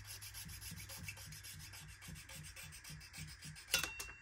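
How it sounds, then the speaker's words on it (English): A hitch is cut off a small 1/64 scale model vehicle, producing a quiet, steady back-and-forth rasping stroke repeated about three times per second, close up, ending with a few light clicks. "I'm going to cut this big old janky looking hitch off this thing"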